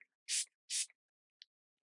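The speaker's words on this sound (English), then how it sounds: "And I'm going to go ahead and spray" Two short hissing spray bursts in quick succession, close and crisp, then a faint tiny spritz afterward, with silence between.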